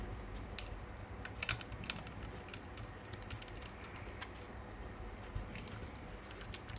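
A small T5 screwdriver works at screws on the back of a DJI Mini 5 Pro drone, making faint, quick clicks and ticking taps over quiet background noise with no talk.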